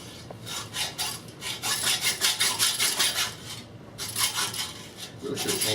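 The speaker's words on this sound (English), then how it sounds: "Now the blade on this hacksaw, the teeth are down, which means you only get the down cut." A hacksaw with downward-facing teeth cuts through pipe in quick, rhythmic rasping strokes, close and loud, pausing briefly before resuming, with no speech.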